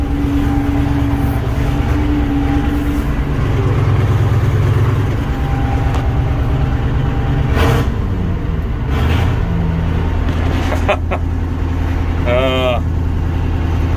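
A 700 tractor engine runs at a steady, loud, low drone close by while people talk over it, with a rise in pitch partway through.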